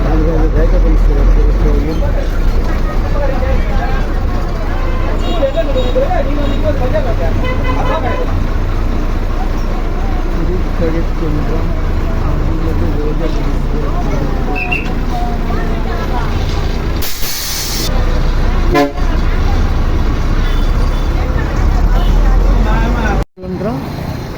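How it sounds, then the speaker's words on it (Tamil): Busy bus stand ambience at Thirukalukundram with idling and passing buses, traffic rumble and occasional horn toots, while someone talks over it throughout. "பேருந்து நிலையம் இது பக்கத்தில் ஒரு பெட்ரோல் பங்க் இருக்கும்"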